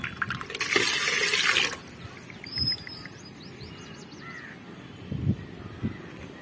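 Water rushing into the inlet tank of a Supreme solar water heater with an overflow problem, a loud brief gush early on, then quieter trickling while crows caw nearby.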